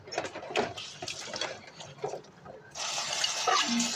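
Water from a tap runs into a sink while dishes are washed at home, starting as intermittent splashes and clatter, then a steadier louder stream toward the end, with no talk.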